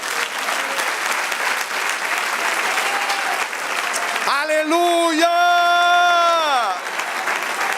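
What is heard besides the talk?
congregation applause in church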